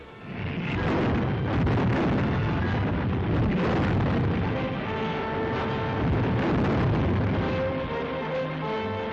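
Wartime newsreel of artillery guns shelling burning Soochow: a dense, continuous roar of booming blasts and rumbling fire, loud and sustained with no pauses, under a thin steady tone.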